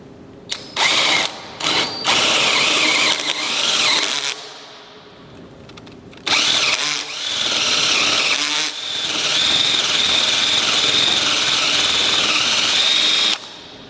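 A power drill bores into a wooden column in several loud bursts, with short pauses between them and a long continuous run in the second half as the bit clears out the bulk of the material.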